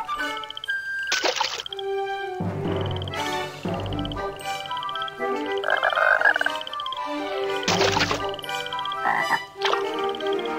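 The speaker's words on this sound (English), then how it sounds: "look at that cute frog" A cartoonish frog croaks repeatedly in the horse-riding video game Barbie Riding Club, clear close-up calls in an irregular series over game music and light watery splashes.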